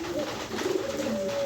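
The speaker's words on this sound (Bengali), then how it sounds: "লাল টকটকা চোখের একটা মাদি কবুতর দিলাম" A female pigeon with bright red eyes gives soft cooing calls, a short close run of low warbling coos with no talk.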